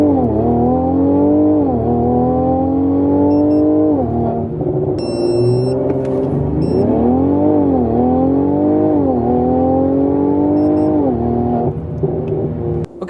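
A Mercedes C43 AMG fitted with a RaceChip tuning module accelerates hard on the road, its engine note climbing steadily through several gears with short dips at each shift, loud and close throughout.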